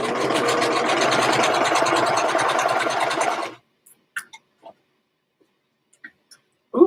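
Sewing machine back stitching a face mask, a close, steady, loud mechanical whir for about three and a half seconds, then stopping abruptly, followed by near silence broken by a few faint clicks and light handling.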